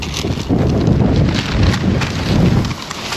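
Strong, gusty wind buffets an outdoor work site and rushes in a steady, loud roar. Broadband gusts swell and ease throughout with no talk.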